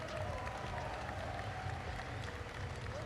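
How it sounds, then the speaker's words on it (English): A crowd at the Arnold Classic bodybuilding event applauds Ronnie Coleman, a distant, steady wash of clapping and crowd noise heard faintly in a large hall. "So a round of applause once again, ladies and gentlemen, for the king, Ronnie Coleman."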